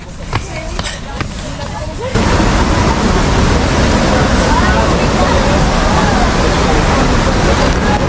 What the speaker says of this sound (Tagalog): Naririnig nyo na guys yung agos ng water